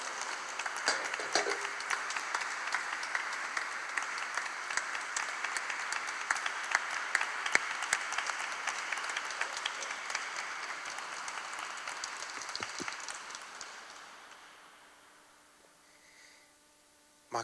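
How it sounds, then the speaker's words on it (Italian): Sustained audience applause at an Italian talk or presentation, dense steady clapping that continues for about thirteen seconds before fading out, with no voices over it. "questo applauso che vi abbiamo rivolto"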